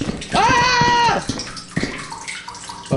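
Water sloshes and gurgles inside a cave in a video game, a loud pouring burst early on followed by softer splashing, with voices in the background.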